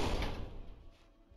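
A sliding facility door in Roblox Flee the Facility, a loud mechanical whoosh and clunk at the start that fades into a quieter rumbling tail.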